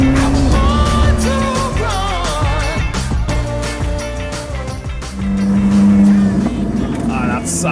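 A Koenigsegg Jesko hypercar engine roars and revs hard, its pitch climbing and falling through gear changes, loud and close throughout.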